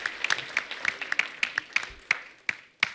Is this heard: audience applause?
yes